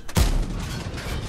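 A Scorpion G tank destroyer in World of Tanks fires a premium round at artillery: one sharp, loud cannon boom with a heavy low thump that rolls off into a long rumbling tail.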